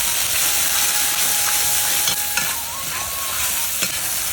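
Ground cumin, ginger, dried chilli, tomato and turmeric paste frying in hot oil, a loud steady sizzle and hiss throughout with a few sharp stirring scrapes, no voices.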